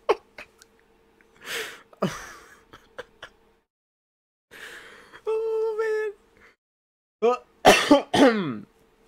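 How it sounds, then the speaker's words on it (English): Several loud, harsh coughs from a single person, spaced out in separate bursts with quiet gaps between them, closing on a forceful double cough. "Sorry for coughing so loud."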